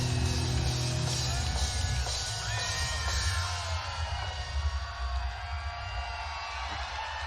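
Crowd at a 2022 live concert, a sustained wash of cheering, yells and whoops over droning guitar and low band rumble, dense and continuous, fading slightly toward the end.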